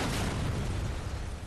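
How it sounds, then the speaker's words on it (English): A big explosion in the video game Black Mesa gives a dense, loud rumbling blast that holds for over a second and then thins slightly. "the big ass explosion happened"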